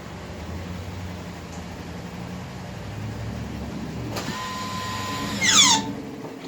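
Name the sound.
Toyota RAV4 electric parking brake engaging automatically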